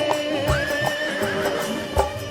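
A horse neighs loudly in a long, wavering whinny, with a few soft hoof clops, heard alone and up close.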